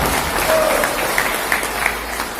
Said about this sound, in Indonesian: Tepuk tangan dulu untuk orang Batak.